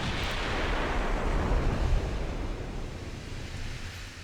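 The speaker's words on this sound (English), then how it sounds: "There we go, got all the guns firing." Battleship guns fire together in Ultimate Admiral Dreadnoughts, a WW2 naval battle, heard as a dense, rumbling roar of broadband blast noise that swells and slowly fades.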